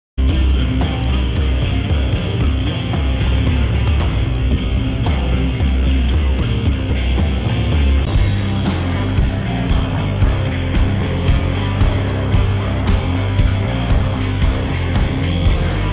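Instrumental music with a steady beat and bass, the lead vocal largely stripped out by iZotope RX-8 voice removal, leaving a thin, slightly processed backing track playing continuously.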